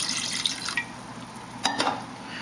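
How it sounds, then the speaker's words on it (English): Water pours into a simmering pot of Thai green chicken curry with a soft, steady splashing hiss and a couple of brief louder sloshes, close by. "I'm going to add another half cup of water"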